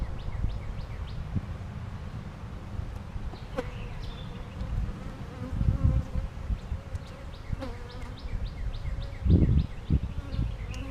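Honeybees buzz around an open hive, a continuous close swarm drone with individual bees whizzing past, mixed with low handling rumbles and occasional knocks.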